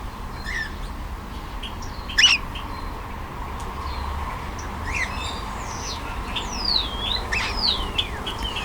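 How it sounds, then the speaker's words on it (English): Several pet cockatiels in an aviary give soft chirps and a few brighter whistled calls, sparse at first and then busier later on, heard against a quiet, steady hum with no talking. "most of the time the cockatiels make pretty cute noises"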